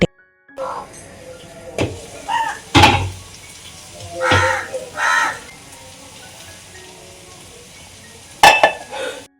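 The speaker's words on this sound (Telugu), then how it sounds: "ఇంకా తాలింపు వేసిన తర్వాత ఇదిగోండి పప్పుచారు వెంటనే ఒకసారి కలిపేసి మూత పెట్టేయండి" A spoon stirs freshly tempered pappucharu, a tamarind lentil soup, in a metal pot, then a lid goes on, giving several clinks and scrapes with a soft sizzle underneath and a sharp clatter near the end.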